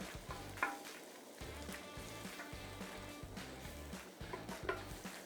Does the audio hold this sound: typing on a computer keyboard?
no